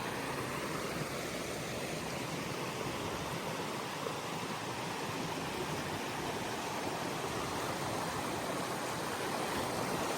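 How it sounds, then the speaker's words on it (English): A creek near Thunderbird Falls in Alaska, rushing water giving a constant broad hiss and roar, steady and fairly close throughout with no talking. "We got another view of the creek."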